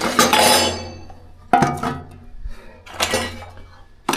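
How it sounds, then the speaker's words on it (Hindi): Metal kitchen utensils and pots are picked up and stacked on a shelf in a home kitchen before breakfast, several loud close clanks and rattling clinks in separate bursts with quiet gaps between. "ब्रेकफास्ट बनाने से पहले इन बर्तनों को रख देता हूँ ऊपर ताकि यहाँ पे स्पेस हो जाए मेरे लिए।"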